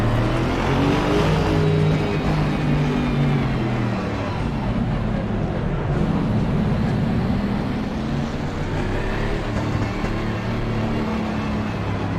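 A continuous engine roar from a car in a racing video game rises and falls as it accelerates through gears, steady and loud throughout with no pauses.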